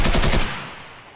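A rapid burst of automatic gunfire from scavs in Escape From Tarkov, several loud close shots in quick succession, then a decaying echo.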